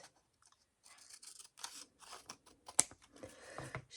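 Scissors snip through paper in a quick series of short, close crisp cuts, with one sharper click partway through, in a quiet room during a craft project.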